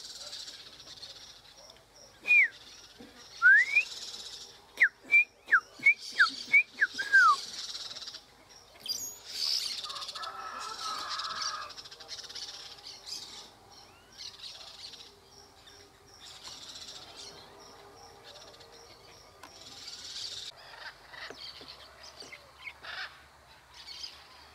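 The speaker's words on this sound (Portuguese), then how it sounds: "Pássaros pretos ali na antena." Black birds perched on an antenna in Mato Grosso, Brazil, giving a quick burst of sharp, fairly faint chirping calls early on, then sparser softer calls over a quiet outdoor background.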